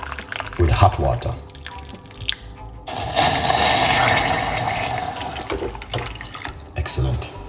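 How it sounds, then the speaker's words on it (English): Hot water pours into a cup for lemon and parsley tea, a steady liquid rush building over several seconds, close and fairly loud, with brief clatter before it. "What we are going to do is get the cup with hot water."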